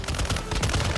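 An LMG fires in Warzone 2.0, a loud and rapid burst of shots close by that fills the whole short moment.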